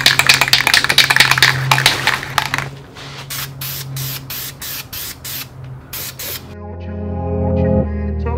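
A spray can hisses high-heat ceramic coating onto a sandblasted, rusting turbo housing for a 12v Cummins engine, starting with one long hiss and then breaking into a series of short, evenly spaced bursts, close and loud.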